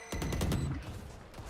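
Gunfire from the video game Valorant during a collegiate esports match comes as a rapid burst of several sharp shots in quick succession, followed by a fading tail with no talk over it.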